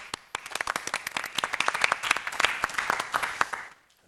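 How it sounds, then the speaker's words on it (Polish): A small studio audience on a Polish TV programme claps, with distinct individual hand claps building into brisk applause, then quickly tapering off near the end. "wielkie brawa"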